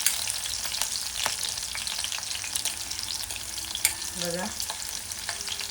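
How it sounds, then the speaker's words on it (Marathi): Garlic sautéing in a pan for a mixed leafy greens dish, a continuous close sizzle and crackle with a few stirring scrapes, and a brief spoken word near the end. "एक मिनिटभर चांगलं ह्याला परतून घ्यायचं. लसूण थोडीशी लालसर चांगली झाली पाहिजे."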